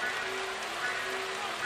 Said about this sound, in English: the crowd trying to be as noisy as they can